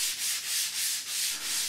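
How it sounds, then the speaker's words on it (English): Rhythmic back-and-forth rubbing of sanding drywall mud over taped seams in a garage workshop, steady hissing strokes at close range and fairly quiet, no voices. "and then lots of sanding."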